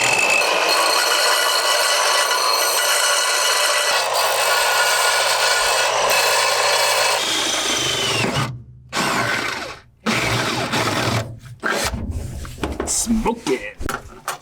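Beveling the end of a threaded rod during an underbody storage build, with continuous loud grinding and rubbing for about eight seconds, then broken bursts and pauses as the tool works the rod end.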